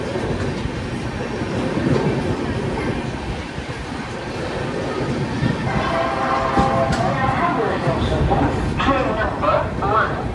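The Padatik Express runs on rails with a loud, steady rumble, rhythmic clickety-clack of wheels over joints, and brief squealing later on, heard from inside the moving train; faint voices mix under the noise.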